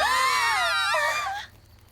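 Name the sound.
woman screaming in a cartoon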